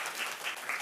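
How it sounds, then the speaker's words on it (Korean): Brief burst of congregational applause during a Sunday church service, a dense, steady patter of many hands clapping together at moderate volume. "우리 박수로 하나님께 영광."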